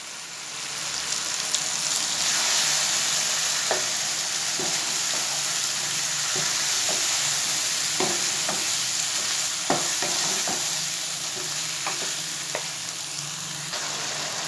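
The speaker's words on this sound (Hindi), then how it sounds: "अब इस मौके पर इसमें मैं टमाटर ऐड करूँगा।" Finely chopped tomatoes frying in a chicken bhuna masala, giving a loud, constant sizzle with occasional spoon taps and scrapes against the pan.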